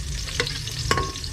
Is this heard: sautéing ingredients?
yes